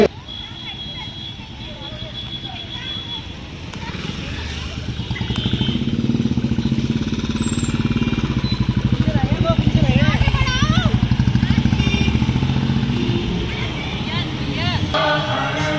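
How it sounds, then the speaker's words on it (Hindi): Motorcycles and cars rolling past in a Shivratri celebration rally, a continuous engine drone that swells to its loudest midway and stays strong, with people talking over the traffic. "जिसमें लगभग 25 कारें और 20 मोटरसाइकिलों ने भाग लिया है"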